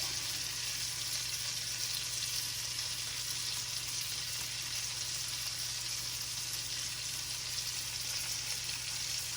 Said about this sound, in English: we're just gonna let these sear